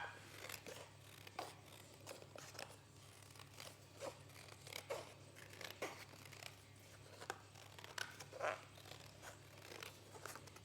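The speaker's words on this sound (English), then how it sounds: "And then we need our scissors, and we cut that out." Scissors snip steadily through a cardboard template, a run of crisp, irregular cuts close by against a low steady hum.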